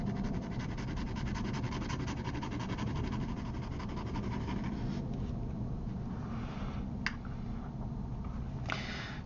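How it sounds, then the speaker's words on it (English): A paper towel rubs across a fude pen nib to dry it, giving a close, steady scratchy rubbing that thins out partway through and ends with a couple of brief dabs, no talk. "I'll simply dry off the nib with a paper towel like so"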